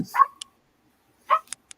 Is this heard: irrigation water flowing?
no